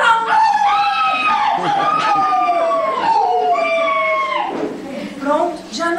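A dog howls from a doghouse during an amateur theatre play, with long wavering cries repeated over several seconds, likely voiced by a performer imitating the dog, heard close and loud.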